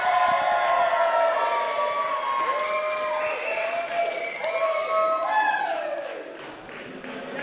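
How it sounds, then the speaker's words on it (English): Wedding guests applaud and cheer as a bride and groom are welcomed onto the dance floor, a dense crowd roar that fades slightly toward the end, with a sustained melodic tone and voices layered over it. "let's have a massive round of applause for Meera and James."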